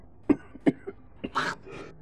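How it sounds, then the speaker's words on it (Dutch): Two loud, sharp coughs a fraction of a second apart, followed by a softer cough and a raspy throat-clearing burst, from a person at a night-time street meeting in the Carpathians in snow, close and with no other talk. "En dat hoesten van mij, ik hoest bijna nooit."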